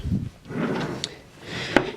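A wooden dresser drawer in a college dorm room being pulled open, a short scraping slide with a couple of soft knocks and a faint click, close and quiet.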